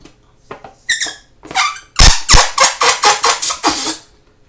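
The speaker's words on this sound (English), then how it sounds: "you've probably heard balloons make strange sounds like this." Loud, high squeals from a balloon releasing air, a series of stuttering squeaks in quick bursts that rise and fall, close up.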